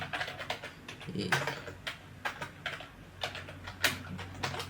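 Irregular bursts of close key clicks on a computer keyboard while an ad description is typed, quiet taps with brief pauses between words.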